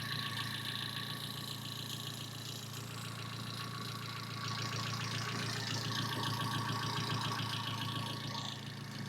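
A car engine idles with a steady, even rumble and a faint rhythmic ticking, continuous and unchanging throughout.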